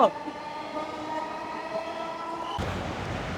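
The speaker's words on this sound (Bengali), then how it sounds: "আমরা লাস্ট শেষবারের মতো দেখে নিচ্ছি মেট্রো রেল থেকে কি জোরে যায় দেখছ" A Dhaka metro rail train runs past between Farmgate and Agargaon, a steady mechanical rumble with tonal whine, close and continuous, shifting to a rougher broadband roar near the end.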